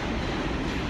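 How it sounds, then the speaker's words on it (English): A subway train passes in a steady, dense rumble of wheels and carriages that fills the space without pause. "It's the subway"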